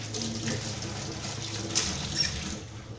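Water pours into a pan in a home kitchen as a steady hiss and splash for about three seconds, with a couple of brief louder spurts and no talk.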